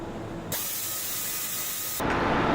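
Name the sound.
buffing motorcycle fork lacquer with polishing compound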